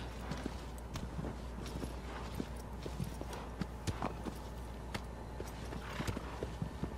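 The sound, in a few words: horse hooves in video game Shadow of the Colossus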